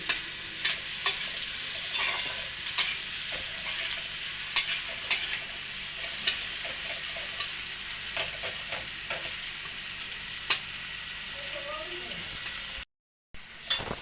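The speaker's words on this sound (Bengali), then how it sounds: "পেঁয়াজগুলো নাড়াচাড়া করে নেবো।" Onions sizzle and crackle as they are stirred while frying in pure cold-pressed mustard oil, a steady busy frying hiss broken by frequent scraping stirs.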